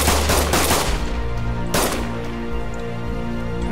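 Enemy gunfire in Arma 3 Wasteland at night, with dense rapid automatic bursts up front, then a single sharp crack and thinning shots over a low steady rumble.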